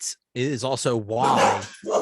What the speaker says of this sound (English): I have dogs barking in the background